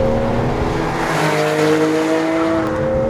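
Porsche 911 Carrera 4 GTS with 424 bhp and a PDK gearbox, driven through a tunnel: a loud, continuous engine note close by, rising and falling steadily with a rich, resonant howl and no talk over it.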